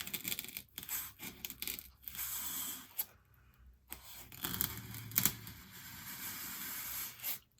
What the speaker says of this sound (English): you can tell by me cutting a lot of styrofoam with this knife and my pool noodles